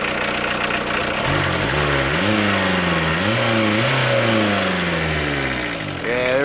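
A 1981 VW Rabbit diesel engine with a freshly rebuilt injector pump revving from idle, loud and close, with repeated rising and falling throttle blips in a steady rhythm before settling back down, no talking over it.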